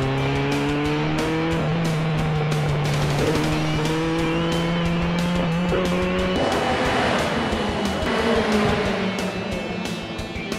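Several racing cars roar loudly past at high revs on a Brazilian circuit at the 2023 season opener, engines whining and shifting pitch as they speed along the track, with tires squealing.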